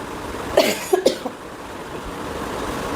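Two short coughs close by, one right after the other, then quiet background hum.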